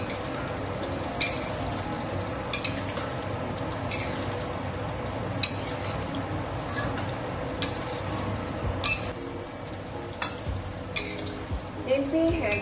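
Tempeh fries in oil over a medium flame for sambal goreng, giving a steady crackling sizzle broken by occasional sharp clicks and scrapes of a utensil against the pan.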